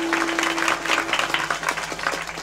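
An audience at a Marathi gathering breaks into applause, a dense, close run of clapping that holds steady, with a constant electrical hum underneath.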